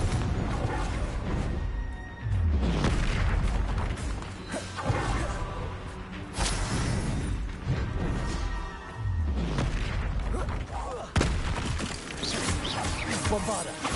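Confringo and Bombarda spell blasts in the Hogwarts Legacy video game, a dense run of loud crashing, booming explosions and whooshes in repeated bursts, with game noise throughout and a voice calling out spells between them.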